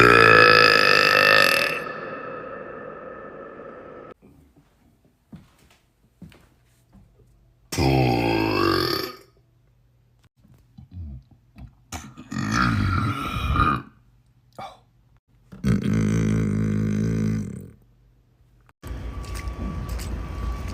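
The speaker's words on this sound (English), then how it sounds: "Oh, you did burp." Several loud, drawn-out burps from a man, each long and croaky, separated by quieter gaps with faint background noise.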